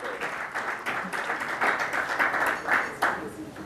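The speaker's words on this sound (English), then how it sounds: "Big round of applause" A conference audience applauding at an award presentation, a dense wash of many hands clapping in a large hall, steady and moderately loud with a few sharper claps standing out.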